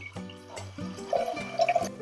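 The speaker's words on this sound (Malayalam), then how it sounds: "നമുക്ക് ഇതിനകത്തോട്ട് കുറച്ച് വെള്ളം ഒഴിച്ചു കൊടുക്കാം" Water poured into a pressure cooker onto toor dal for Kerala sambar, a close, continuous splashing pour that rises in pitch as the vessel fills, with no talking.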